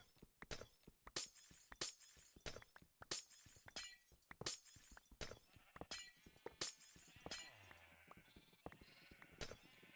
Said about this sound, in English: I just had a bottle thrown at me.